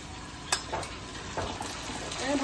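Taro leaves going into a pan of frying onion and garlic, giving a low, steady sizzle with a few clinks and stirring scrapes over it.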